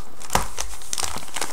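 Plastic packaging crinkles and tears in quick bursts as a small parcel holding a silicone tyre-pattern iPod Touch 4G case is opened, close and fairly loud.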